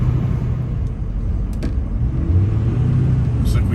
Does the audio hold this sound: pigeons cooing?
no